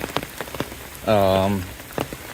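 Rain falls on the Florida Trail in a palm forest, a soft, constant patter with scattered sharper drips and a brief tonal call in the middle.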